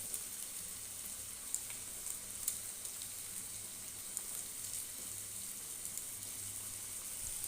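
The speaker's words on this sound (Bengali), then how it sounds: "এবার ভালো করে সুন্দর করে এটাকে ভেজে নেব" Chopped tomato and green chili fry in a hot pan, giving a steady, even sizzle with faint crackles that carries on unbroken throughout, with no voices.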